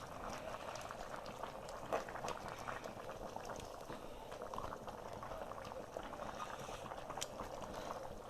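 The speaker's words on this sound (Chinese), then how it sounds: "这玩意儿得咕嘟透了，让几个味儿给它融合好了。" A fish stew simmering in a pot gives a steady, soft bubbling and gurgling that carries on without a break, quiet and close, with no voices.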